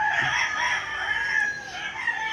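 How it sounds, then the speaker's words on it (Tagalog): A rooster crows loudly and at length, its drawn-out call filling the clip, with other fowl faintly clucking in the background. "Ayan, tilaok ng manok."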